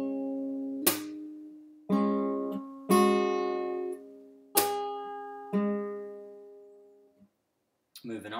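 Fingerstyle acoustic guitar playing part of a song, with slapped bass strings and hammer-ons: five or six struck chords ring out and decay one after another, close and clear, ending in a brief pause and a short noise.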